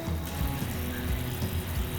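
Water poured into a pan on the stove while making rava kesari, a steady soft splashing pour heard alone at close range.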